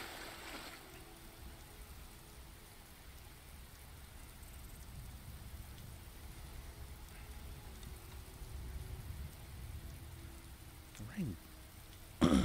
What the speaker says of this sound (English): Rain sounds kind of weird.